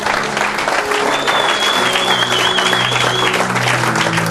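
A church congregation applauds the Lord during a worship service: sustained, loud, dense clapping with cheering voices, steady throughout, with a held tone from music or a voice rising over it.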